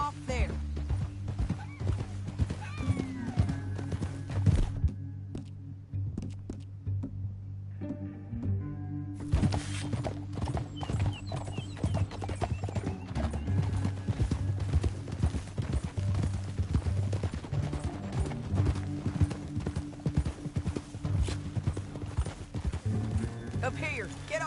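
Horse hooves clip-clop steadily through a Red Dead Redemption II ride, with occasional neighs and whinnies over a constant game soundtrack and spoken dialogue.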